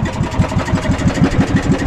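A small boat engine chugging steadily up close, with a rapid, even low-pitched thumping pulse and a rattling mechanical hiss over the top.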